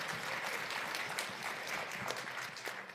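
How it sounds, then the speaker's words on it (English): Audience applause at a talk on youth disengagement from Canadian democracy, a steady wash of clapping from a crowd that carries on for the whole stretch with no voices over it. "I have never been applauded for that before, but thank you."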